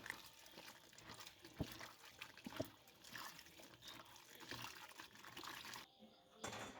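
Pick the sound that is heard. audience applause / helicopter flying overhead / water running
water running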